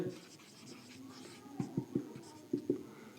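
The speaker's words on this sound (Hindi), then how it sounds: "तो प्रूफ में लिखेंगे" Marker or chalk writing on a board during a geometry lesson, heard as faint scratchy strokes with a few distinct taps and squeaks near the end.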